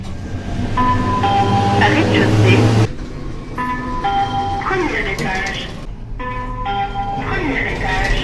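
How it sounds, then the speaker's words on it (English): A Monaco underground lift's universal announcement voice with its Soviet-sounding chime, a sequence of clear tonal notes repeated in bursts, with a recorded voice speaking between them in a reverberant tunnel space. "This universal Monaco voice also has a chime to it"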